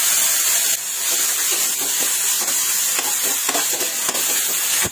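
Onion and garlic sautéing in a pan for binagoongang pechay, a steady loud sizzle and hiss of frying with occasional stirring scrapes, close and without talk.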